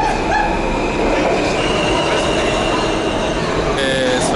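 New York subway train running from JFK toward Manhattan, with a loud continuous rumble of the car in motion, wheel squeal and rattling throughout the ride.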